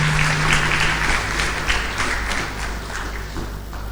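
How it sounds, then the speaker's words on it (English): An audience at a live-streamed event gives a speaker another round of applause, a broad, loud wash of clapping over a low hum, holding steady for nearly four seconds and tapering slightly toward the end. "Please give her another round of applause"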